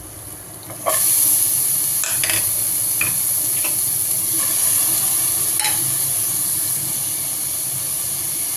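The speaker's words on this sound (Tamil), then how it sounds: "வெங்காயம் நல்லா வதங்கிடுச்சு இப்போ வந்து நம்ம கேரட்டும் பீட்ஸும் சேர்த்து வதக்கிக்கலாம்" Onion, carrot and beetroot sautéing in a pan for sweet corn vegetable soup: a sudden hiss bursts in as the vegetables hit the pan, then settles into a steady sizzle with a few sharp spatula clicks, close by and wordless.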